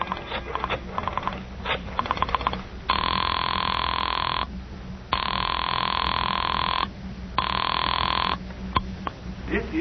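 An old-fashioned telephone rings after a number is dialed in a radio drama, sounding as repeated long, steady bursts separated by brief pauses, with faint clicking at the start.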